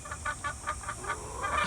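A nervous hen clucks softly in a quick, even series of about seven short clucks, close but quiet, over a low background hum with no talking.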